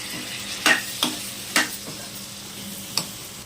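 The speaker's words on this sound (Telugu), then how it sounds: "ఇప్పుడు ఎండి చేపలు వేసుకోవాలి." Dried fish stirred in a frying pan while cooking Telangana-style fish curry, a low steady sizzle broken by four or five sharp scraping stirs, close and fairly quiet.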